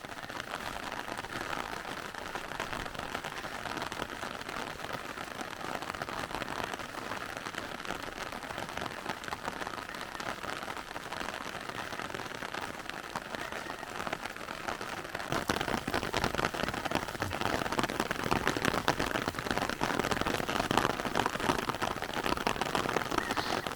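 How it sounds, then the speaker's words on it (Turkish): A heavy June rain downpour, a dense, steady hiss of drops on surfaces that grows louder and more intense partway through, with no voices. "Harika bir sağanak yağmur var"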